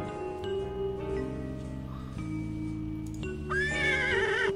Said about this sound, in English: Nice horsey.